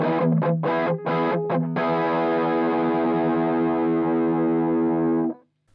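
Electric guitar driven through a Wampler Plextortion distortion pedal: a few short choppy strums, then one loud sustained distorted chord that rings steadily for several seconds before cutting off abruptly.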